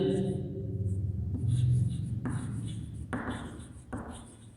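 Numbers are written on paper for a class 4 maths exercise, with soft scratchy pen strokes in short bursts beneath a person speaking.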